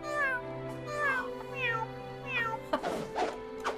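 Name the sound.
cat meowing in Barbie & The Three Musketeers video game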